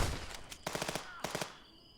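Gunfire from the game Contraband Police rattles out in short automatic bursts, two quick volleys of rapid cracks following a few single shots, then ringing off into a faint tail.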